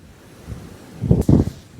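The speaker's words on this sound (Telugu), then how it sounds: "ఈ రాళ్ళను తట్టుకొని అలలు పైకి ఎగిసి పడుతున్నాయి" Sea waves surge and break against rocks at Kovalam beach, a soft wash building into two loud, close crashes of spray in quick succession near the end.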